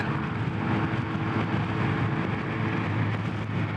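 Kawasaki ZRX1200R motorcycle being ridden, a steady low engine drone blended with broad wind rush, loud and continuous with no gear changes.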